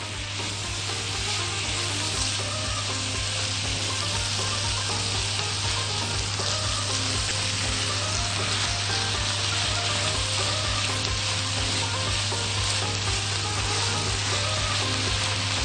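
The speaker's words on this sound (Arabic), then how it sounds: "بقى اضيف الفلفل الملون وكمان الطماطم المكعبات" Coloured bell peppers and diced tomatoes frying for a meat pie filling, giving a loud, dense, continuous sizzle close up with a steady low hum beneath and faint stirring within.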